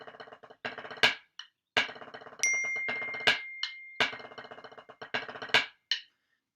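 Crisp snare drum strokes in a quick rudiment pattern with 2-beat tap rolls and a few louder tenuto-accented hits, played alone and close.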